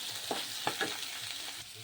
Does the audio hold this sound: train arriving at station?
no